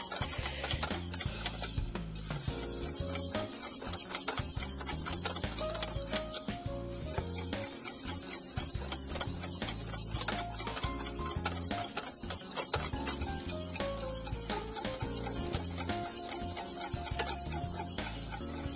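A whisk beats clarified butter into hollandaise sauce in a bowl, a fast, continuous rhythmic scraping and ticking that runs close and steady throughout over a faint musical backing.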